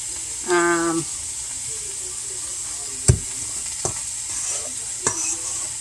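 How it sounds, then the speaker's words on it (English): A spoon stirs a turkey meatloaf mixture with wet, squelching scrapes and a few sharp knocks against the bowl, while a steady background hiss carries through the whole stretch. "And I'm going to mix that around."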